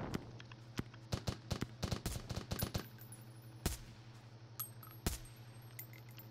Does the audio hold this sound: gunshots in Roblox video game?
yes